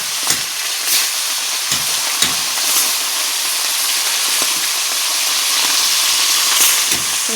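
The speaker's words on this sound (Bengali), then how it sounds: "তো একে একে এখন মাছগুলো আমি ভাজা করে নেবো লাল লাল করে" Fish fry in hot oil in a pan for a pumpkin and khoira fish curry, producing a loud, steady hiss with sharp crackles and pops throughout, close up and with no voices.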